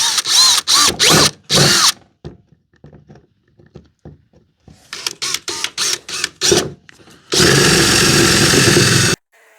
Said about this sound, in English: There is a little bit of a plate here, but I can just drill right here.